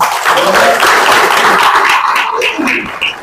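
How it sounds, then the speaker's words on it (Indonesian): A crowd at an Indonesian political rally for the AMIN campaign claps for its legal team, a dense, loud wash of applause lasting a few seconds with little voice over it. "Tepuk tangan tim hukum"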